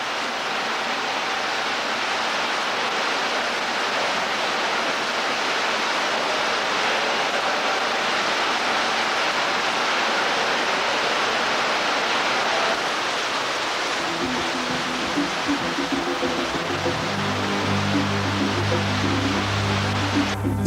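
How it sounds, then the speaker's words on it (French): Water roars steadily and continuously from a waterfall inside a cave, a dense hiss filling the space, with a low droning tone joining later. "La cascade du réseau Nord nous offre un spectacle féerique."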